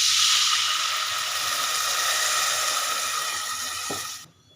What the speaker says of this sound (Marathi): आता आपण त्यात पाणी टाकून घेऊया।